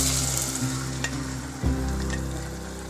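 Brown whole lentils (sabut masoor dal) drop into tomatoes frying in a pan for a dhaba-style curry, a steady close sizzle with a sudden thump and flare of bubbling as they land, then continued hissing and stirring.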